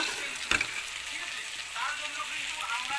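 Vegetables and rice being sautéed with green chillies for masala khichuri, giving a steady, close hiss of frying with a sharp clatter of stirring near the start.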